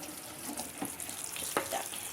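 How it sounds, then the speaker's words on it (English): Cold tap water running over drained pasta in a kitchen strainer, a steady hiss of splashing water with a few clatters and taps of the metal strainer, fairly close. "I need to cool it, so I'm gonna run some cold water on it"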